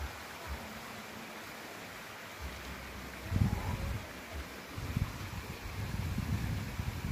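A stream flows over rocks in a steady, close wash of water noise, with a few louder gusts or splashes rising through it and no one speaking.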